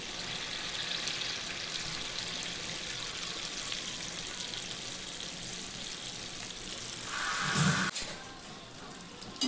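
Gulgule made from jaggery and wheat flour fry in hot oil with a steady, dense crackling sizzle throughout, swelling briefly louder near the end with a short clatter.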